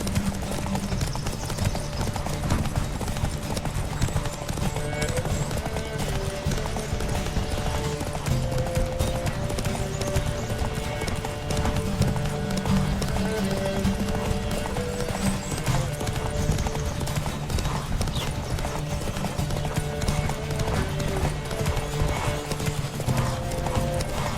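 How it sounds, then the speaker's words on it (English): Continuous rapid hoofbeats of horses galloping in The Witcher 3: Wild Hunt video game, dense and steady throughout, with tonal music underneath and an occasional whinny. "Riders, ready! Giddy up."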